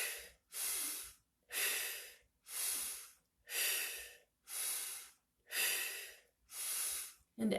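Slow, deep breaths during a guided breathing exercise, eight long airy inhale-exhale cycles in a steady rhythm, close and clear with short silent pauses between them and no talking.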